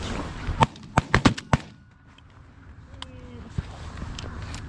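Shotgun blasts during a goose hunt: a quick volley of five or six sharp, loud reports in the first second and a half, then quieter outdoor ambience with a couple of fainter distant pops.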